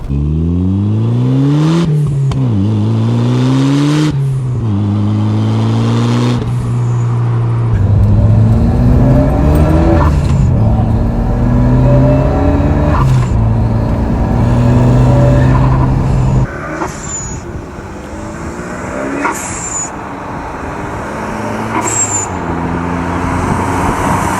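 A Ford Sierra Sapphire Cosworth engine revs hard again and again, each rise and fall close and loud, with turbo flutter between blips and a steady idle throb underneath.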